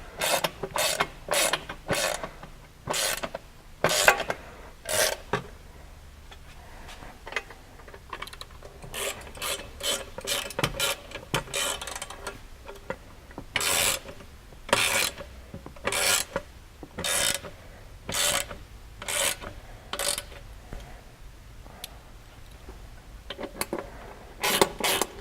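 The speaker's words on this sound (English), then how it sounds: "We can kind of start to snug them up." A ratchet clicks in repeated bursts while bolts on general A-arm skids are snugged up, with sharp rasping strokes coming in a steady rhythm close by and short pauses between them.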